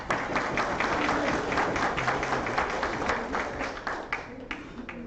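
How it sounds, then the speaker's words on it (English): An audience at a Medicaid advocacy day gathering applauds a senator, a fairly soft, steady patter of many hands clapping at moderate distance, tapering slightly near the end. "Can we give her a round of applause?"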